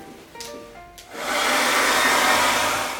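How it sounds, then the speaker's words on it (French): A hair dryer drying a painting of fish and water effects starts up after a few faint clicks, then blows a loud, steady whooshing hiss to the end. "Donc à présent on peut sécher au sèche-cheveux."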